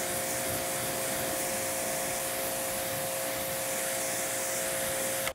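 A steady, forceful rush of rinse water spraying over a car during a wash, constant and close with a faint tonal hum beneath, cutting off abruptly at the end.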